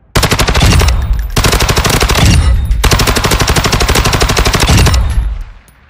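The HCR-56 fires in Call of Duty Mobile in loud, sustained automatic bursts, three long rapid-fire volleys with brief gaps, up close and alone.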